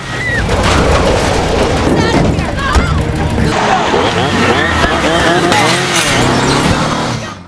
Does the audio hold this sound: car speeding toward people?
yes